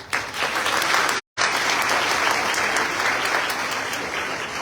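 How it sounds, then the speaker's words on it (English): A crowd at Lincoln Tech's Paramus, New Jersey campus summer graduation applauds the graduating students. The dense, loud clapping runs continuously, with one brief cut to silence just after the first second. "Give them a round of applause."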